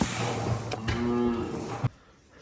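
Cattle on a farm give a low, drawn-out moo close by over a rough, noisy background, ending with a thump.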